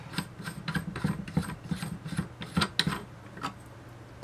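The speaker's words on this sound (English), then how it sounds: "The thread on this plug has this big round nut thing on it, and you unscrew that." Unscrewing a big round threaded nut on the plug of a Gyrosyn compass indicator gives a series of close, dry ratcheting scrapes and clicks in uneven bursts, with quiet pauses between turns and no talking.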